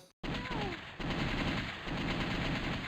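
Rapid automatic gunfire from The House of the Dead on PC, a loud dense stream of shots that breaks briefly and then keeps hammering steadily, with no talking over it.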